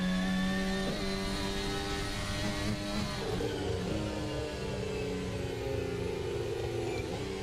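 An F1 race car engine in a racing game holds a steady high whine, its pitch stepping down through downshifts while the car moves through corners, loud and continuous without talk.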